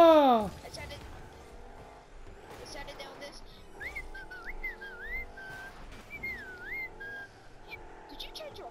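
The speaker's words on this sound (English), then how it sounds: "You're an excellent whistler." A person whistles a few short wavering tones, fairly faint and spread through the clip, with quiet background noise between the phrases.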